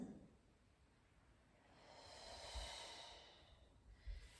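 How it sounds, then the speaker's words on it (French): Slow, quiet breathing during a Pilates exercise, a faint exhale and then a longer breath swelling in and out close by, with no talking. "Encore une respiration."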